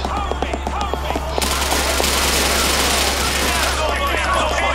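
Rapid bursts of gunfire from weakened weapons in the PC game GTA IV with police mods, a dense, steady crackle of shots that runs loud and continuous throughout.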